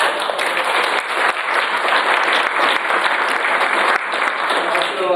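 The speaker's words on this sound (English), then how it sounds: "So let's give them a round of applause." An audience at a school parents' information evening applauds with sustained, thick clapping that stays loud and even from start to finish, dipping only briefly once.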